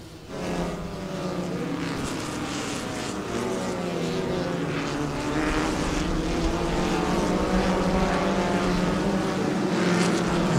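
Racing cars circle together on a formation lap before a 12-lap round of the JK Tyre national racing season, a steady, dense engine drone that stays loud and builds slightly throughout, with no talk over it.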